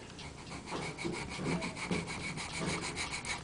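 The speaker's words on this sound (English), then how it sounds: "Just pop it in the vise, take a file" A hand file trims the sides of a wooden recorder block clamped in a vise, giving steady, close rasping strokes that repeat in a continuous rhythm with no talking.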